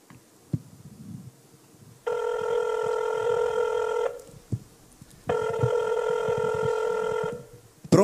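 A telephone rings in two long electronic bursts separated by a pause, loud and close, with faint background noises between the rings.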